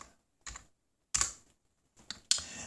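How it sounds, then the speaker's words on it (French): A computer keyboard being typed on in the background gives a few sparse, separate clusters of clicky keystrokes with quiet gaps between them, and no talking. "vous entendez le clavier sans doute derrière"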